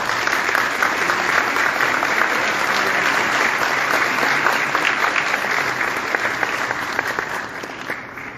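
Sustained applause from an audience at an academic conference inauguration and hospital anniversary ceremony, dense steady clapping throughout that thins slightly near the end, with no talking over it.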